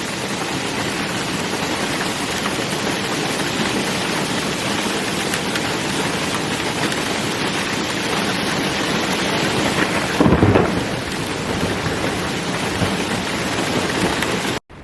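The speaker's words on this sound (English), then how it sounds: "I don't usually drive out in hail." Hail and rain drum steadily on the roof of a van in a storm, a dense close roar throughout, with a brief louder rumble of thunder around the middle.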